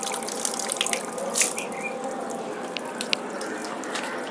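Dirty water from a homemade pond filter pours out in a steady, close splashing stream, with brief spattering drips rising above the flow throughout.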